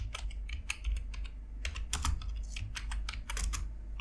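Steady typing on a computer keyboard, with quick irregular runs of close, crisp key clicks and brief pauses, heard alone without talk.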